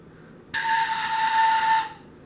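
A long, skinny pan flute tube, as long as the bigger tubes but as narrow as the small ones, blown once in a single sustained breathy tone of about 1.3 seconds, thin and airy with a steady pitch, heard alone.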